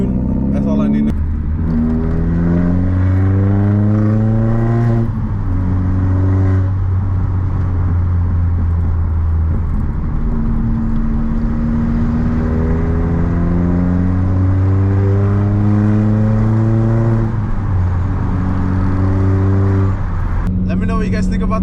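Volkswagen MK4 GTI 20th Anniversary Edition exhaust with a 3-inch catless downpipe, loud and close, with the engine repeatedly revving up and dropping back in rising and falling sweeps while people talk over it.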